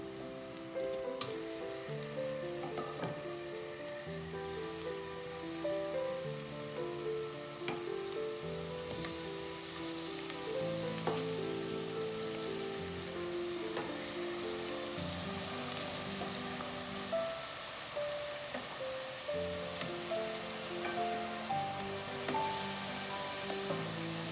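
Spanish mackerel fries in a pot of hot grease with a continuous crackling sizzle, while music plays steadily underneath.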